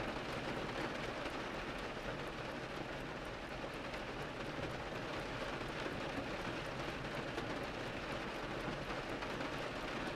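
Steady rain falls outside an antiques store on a rainy day, a continuous even patter that fills the space from start to finish with no voices over it.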